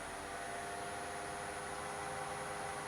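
A wood lathe spins a spindle blank at about 1200 rpm, giving a faint, steady motor hum with a constant whine and no bursts or changes across the moment.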